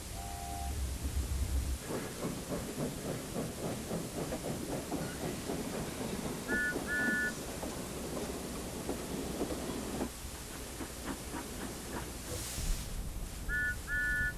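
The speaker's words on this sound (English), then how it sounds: "I think I can hear my 2 engines coming right now." Approaching cartoon steam locomotives rumble and hiss with rhythmic clattering wheels, loud and close, with brief whistle-like tones and a burst of steam near the end.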